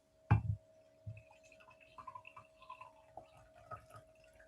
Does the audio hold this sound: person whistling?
no